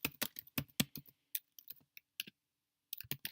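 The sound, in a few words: typing commands on a computer keyboard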